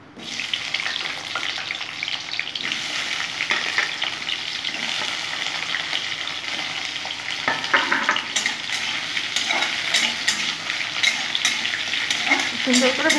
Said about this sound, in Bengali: দেখো এখানে আলুগুলো আমি ভেজে নেব।